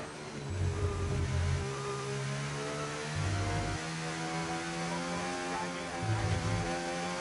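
An Alpine race car in a racing video game cruising on its out lap, the engine droning steadily with a few brief revs rising and falling, continuous and fairly close with no talk.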